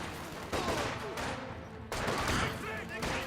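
Bursts of rifle and machine-gun fire in Company of Heroes 2, sharp volleys at mid distance over battlefield ambience, with a couple of clear loud onsets.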